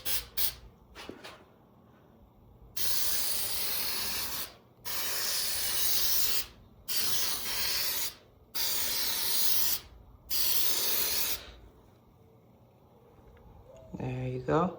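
A spray can applies a second coat to a Corvette C6 headlamp outdoors, heard as five distinct hissing bursts of about a second or more each, separated by short pauses, close and clear, with a voice briefly at the start and end.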